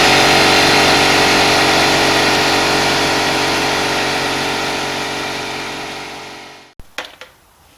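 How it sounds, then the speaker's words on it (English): A small air compressor for an airbrush runs with a loud, steady motor hum that slowly winds down and cuts off, followed by a few faint clicks. No voices. "my compressor kicked on because I will be using my airbrush for this"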